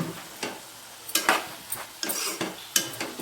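Curry with coconut powder stirred in a pot: a spoon or ladle scrapes and knocks against the pot in a handful of brief, uneven strokes, close and moderately loud, with a faint sizzle underneath and no talking.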